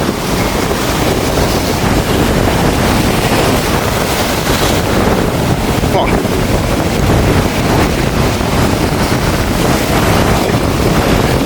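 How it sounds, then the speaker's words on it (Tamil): Violent sea waves crash on the rocky shore at Jaffna, a continuous loud roar of surf churned with heavy wind buffeting against the microphone, with no pause throughout. "எவ்வளோ ஆக்ரோஷமாக வந்து இந்த அலையை அடிக்கிறது பாருங்க"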